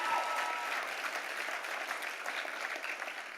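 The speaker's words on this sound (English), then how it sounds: "You can clap for Cedra." An audience claps at an evening speaking event, steady sustained applause heard from some distance and fairly quiet, with no break in the clapping.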